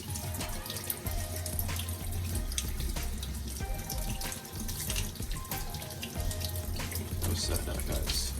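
Tap water runs steadily and fairly close over ginger being washed, with a broad splashing hiss and occasional clinks of things being rinsed under the stream.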